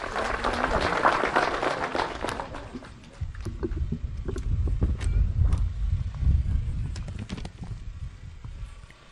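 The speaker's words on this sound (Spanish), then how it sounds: "Un fuerte aplauso, por favor." Crowd applause, dense clapping from many hands that swells and holds for several seconds, with a low rumbling undertone and a few voices mixed in.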